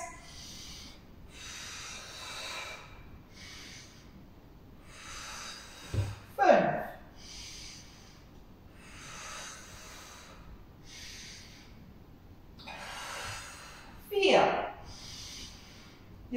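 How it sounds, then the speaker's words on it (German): Deep audible breaths during a Pilates exercise class, two strong hissing exhalations stand out several seconds apart over soft background music and an instructor's voice. "Ihr seht schon, ich nehme viel Luft."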